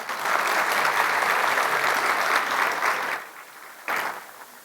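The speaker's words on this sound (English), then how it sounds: "May I respect all of you to kindly grace Justice Bharati Dangre by a great round of applause" Steady audience applause fills a formal legal conference session honoring a justice, dense and even for about three seconds before thinning out, with a brief final burst of clapping near the end.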